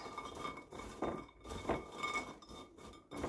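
Utensils clink and scrape against a bowl or glass while cereal croissants are mixed, a close, steady run of small chinks and taps with no voices.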